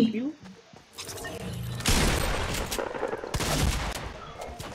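Gunfire in a shooting video game, a dense rattle of rapid shots that swells after a quieter opening and stays loud, with a voice talking over it early on.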